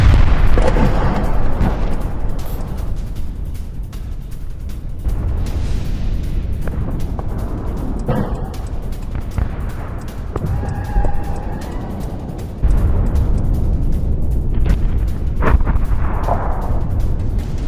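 Explosions from an attack in news footage boom and rumble in heavy, sustained bursts with sharp cracks, loud and distant-sounding, continuing throughout without speech.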